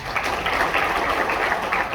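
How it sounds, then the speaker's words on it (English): An audience at a public lecture claps in a dense, steady burst of applause that fills the short moment from start to finish. "We give her a round of applause."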